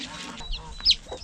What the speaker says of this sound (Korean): 그런데 또다시 병아리를 공격하는 럭키